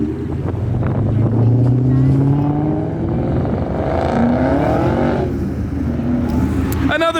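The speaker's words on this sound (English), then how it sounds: "we got the Aventador SV rolling in" A Lamborghini Aventador SV rolls in at a car meet, its engine note rising and falling in a loud nearby drone with shifting pitch over wind and crowd noise, while people talk around it.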